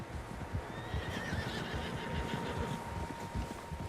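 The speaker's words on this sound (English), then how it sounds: "Horses, quite a few of them." Horses whinny in the Red Dead Redemption II video game, a clear neigh rising over a steady outdoor ambience with faint hoofbeats underneath.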